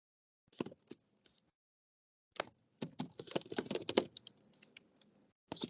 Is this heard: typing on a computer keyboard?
yes